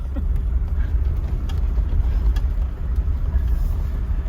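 A 1979 Mercedes 6.9 riding without its hydraulic suspension, heard from inside as a steady low road and engine rumble with faint knocks and rattles, no one speaking.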